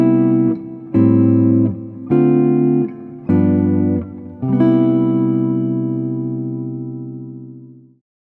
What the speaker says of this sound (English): take chords 1, 6, 2, and 5 and create a 1-6-2-5 turnaround that might sound something like this